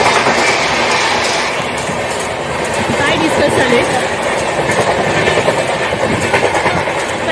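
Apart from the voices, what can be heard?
passing train clattering on rails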